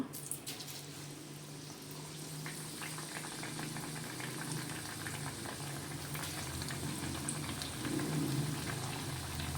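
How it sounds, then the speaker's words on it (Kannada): Brinjal (mattu gulla) fritters dipped in batter and deep-frying in hot oil, giving a steady close sizzle and crackle that stays even throughout with no pauses. "ನಂತರ ಇದನ್ನು ಕಾದ ಎಣ್ಣೆಯಲ್ಲಿ ಫ್ರೈ ಮಾಡಬೇಕು"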